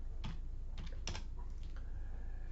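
A computer keyboard clicks under steady hum while code is typed. The keystrokes come in a few short, quiet bursts with pauses between them.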